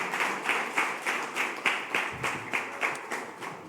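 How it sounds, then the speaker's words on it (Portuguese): A church congregation at a communion service claps together in a steady, rhythmic beat, loud and even, with roughly three claps per second and no talk over it. "Dê uma salva de palmas a Jesus"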